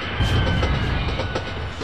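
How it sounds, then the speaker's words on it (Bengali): Train braking hard, used as an effect in a horror story: a loud, steady, broadband rumble of the moving train runs through the whole short stretch with no voices. "হঠাৎ ট্রেনটা একটা জোরে ব্রেক করতেই চমকে উঠলাম।"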